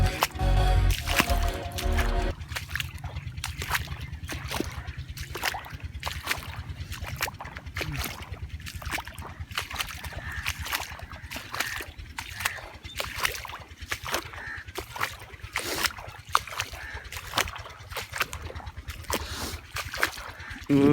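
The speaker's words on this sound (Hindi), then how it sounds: "ये देखें पानी निकल रहा है और गंदम की तरफ जा रहा है।" Irrigation water running out and flowing toward a wheat field, a steady wet churning and squishing with frequent dripping, splashing pulses throughout, close and fairly loud, with brief voices near the start.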